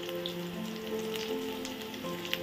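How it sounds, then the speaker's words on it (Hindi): Sliced onion sizzling in hot oil for a Punjabi kadhi tadka with curry leaves, a soft steady crackle and hiss close by, with a faint tonal hum underneath. "और अब मैं ऐड करूँगी स्लाइस ऑनियन"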